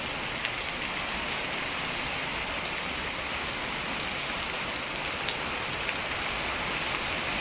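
Steady rain pours onto surfaces in a village, a dense continuous hiss with scattered drop taps, fairly close and even throughout, with no voices.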